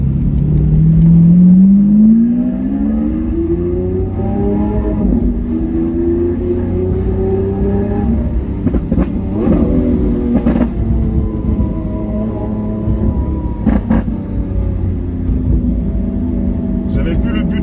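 A Lamborghini engine revs hard and accelerates, close and loud, its pitch sweeping upward through several gear pulls with sharp bursts in between.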